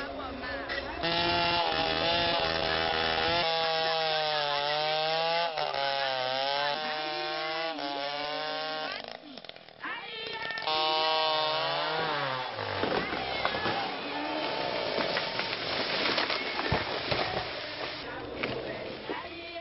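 A tree being cut down with a chainsaw: the engine whines and bogs as it bites into the wood, loud and close, revving and dropping in pitch, with cracking noises toward the end and voices faintly underneath.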